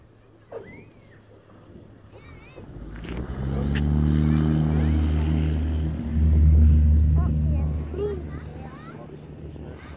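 Light aircraft D-MUNE takes off at full throttle, its engine swelling from quiet to a loud, sustained roar that peaks and then eases; voices talk over the start.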